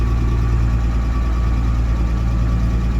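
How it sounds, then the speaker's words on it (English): Car engine idling with the heater just switched on, a constant, close, droning hum with steady low vibration and a faint fan whir layered over it. "So I'm going to turn the heater on"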